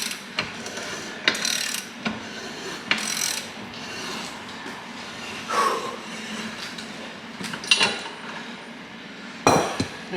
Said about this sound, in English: It's cutting new threads right here, is what it's doing.